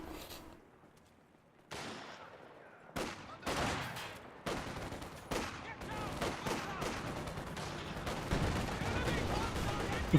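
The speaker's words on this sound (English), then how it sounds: "Eagle infantry firing away." Infantry rifle and machine-gun fire in Company of Heroes 2 cracks in irregular volleys, growing denser and louder after a quiet start, with battle noise filling the gaps.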